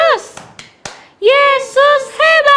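Children in a Sunday school play group clap out the rhythmic 'Tepuk Yesus' pattern, a few sharp close hand claps spaced in a beat, alternating with children's voices chanting loudly between them.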